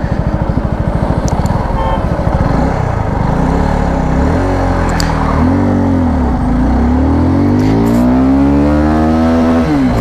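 Suzuki Gixxer 250 SF motorcycle pulling hard in first gear, its engine note rising steadily in pitch as it accelerates, loud and close throughout with steady wind rush.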